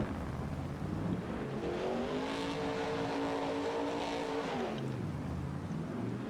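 Monster truck engine in Farming Simulator 22 revving hard as it ploughs through a puddle, a loud, buzzy motor note that climbs, holds high for a few seconds, then drops away.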